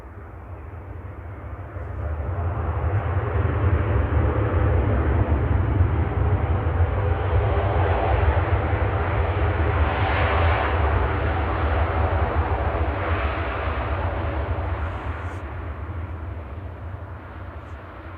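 A Boeing 787-9 arriving from Bahrain at Manchester Airport gives a loud, steady jet roar with a deep low rumble, swelling after two seconds, holding strong and then easing slightly toward the end, with no talking.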